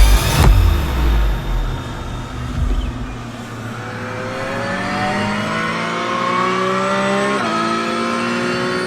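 A Porsche sports car runs on a race track, its engine droning steadily and rising in pitch as it accelerates, with a loud low thump near the start and a short shift blip later.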